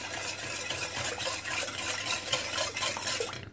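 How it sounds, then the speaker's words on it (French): A spoon stirs sugar into water in a pot for chocolate syrup, giving a steady scraping and swishing with soft clinks, close and alone. "Donc je remue très bien"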